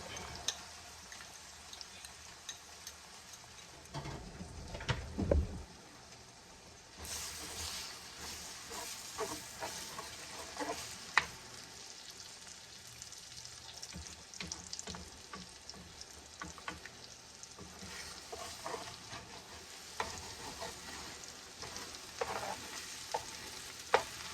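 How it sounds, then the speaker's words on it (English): Four eggs scrambled and fried on a hibachi griddle give a steady close sizzle and hiss, with scraping and stirring clatter from the spatula and a louder burst of frying partway through. "I'm gonna get these scrambled up real quick."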